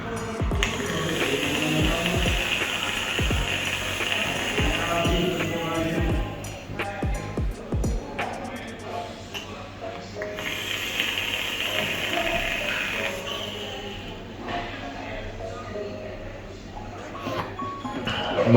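Airflow adjustment ring on a Tauren Solo RTA vape tank being turned, giving a cluster of small mechanical ratcheting clicks close by over a low background hum.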